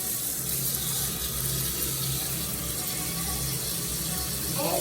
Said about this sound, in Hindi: चलो मुंह धो लोगे खुद आप? हम्म, चलो धो लो बेटा।